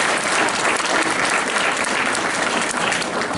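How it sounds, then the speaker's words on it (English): Applause from the audience after a school play fills the room: a dense, steady wash of clapping from many hands that holds at full strength throughout, close and loud, with no voices rising above it. "Can we get a round of applause for Miss Hanley for putting together this amazing play?"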